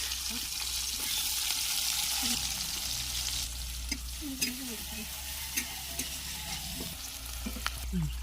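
Chillies and onion frying in oil in a pan, a faint steady sizzle with scattered stirring scrapes and taps, and a low hum running underneath throughout.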